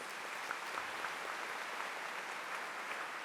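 A church congregation at Mass applauds together, a dense, even wash of clapping that carries steadily and slightly distant through the whole stretch, with no voices.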